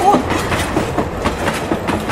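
A Thomas & Friends toy train runs along its track with a steady clicking, clattering rhythm, close and fairly loud with no talking.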